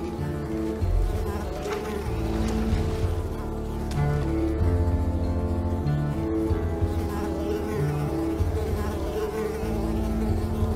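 Buzzing insects drone continuously in the game Unravel, a dense, close swarm-like hum that holds steady throughout with no talking.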